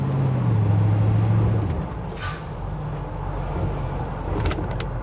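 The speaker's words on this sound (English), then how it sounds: "cold start video on 1978 Chevrolet K20 Scottsdale" A 1978 Chevrolet K20 Scottsdale pickup with a 350 V8 on a cold start, a loud steady low rumbling idle that drops in tone partway through, followed by a short clunk like a door.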